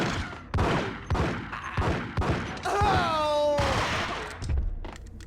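Gunfire in the video game Max Payne: a series of sharp shots rings out at fairly regular intervals, with a brief tonal effect in the middle and someone talking over parts of it.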